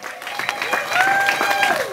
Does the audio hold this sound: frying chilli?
no